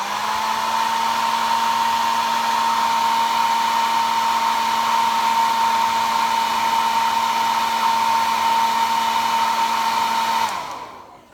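A hair dryer blowing to dry paint on a craft can, a loud, steady whirring drone held close for about ten seconds before it switches off and winds down.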